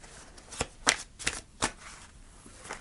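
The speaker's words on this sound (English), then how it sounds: "So let's pull three cards, Taurus." Tarot cards are shuffled and drawn close by, heard as a handful of quick riffling snaps and soft papery slaps spaced about a third of a second apart, faint and crisp in a quiet room.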